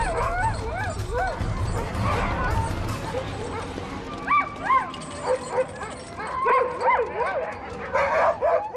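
Sled dogs bark, yip and whimper in bursts while a polar bear approaches on the ice. A narrator talks over the repeated, fairly close calls.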